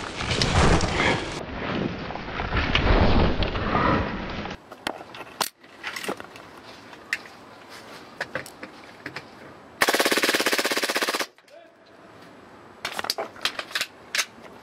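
Airsoft gunfire in outdoor play, sharp rapid bursts of shots, some close and loud, others sparse and distant, scattered between quieter stretches of ambient noise.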